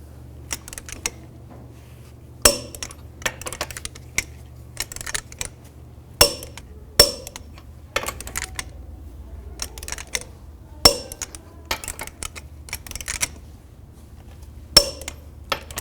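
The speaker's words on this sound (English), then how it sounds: "Now I'm going to torque the lug nuts to 140 foot-pounds in a cross pattern to tighten the wheel down" A torque wrench clicks as lug nuts on a Chevrolet Equinox wheel are tightened to 140 foot-pounds in a cross pattern, giving several sharp, isolated metallic clicks spaced a few seconds apart over a low steady background hum.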